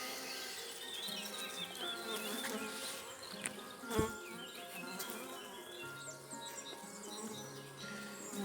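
A founding hornet queen buzzes inside a box: a faint, continuous insect drone with one soft knock partway through.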